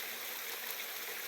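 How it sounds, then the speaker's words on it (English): Water flowing over the riffles of a sluice at a creek makes a steady, close, hissing rush that stays even and unbroken throughout. "You got it riffling, water going over the riffles like that."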